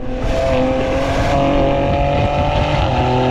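Sustained engine roar from a BMW M SUV accelerating hard in manual mode, steady and loud from the cabin with harmonic tones rising through the pull.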